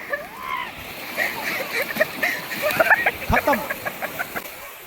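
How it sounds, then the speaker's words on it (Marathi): Sea waves splash and slosh in repeated bursts at Harihareshwar Beach, with birds and people chattering over it. "पाणी वाढत चाललंय लाटा बघा"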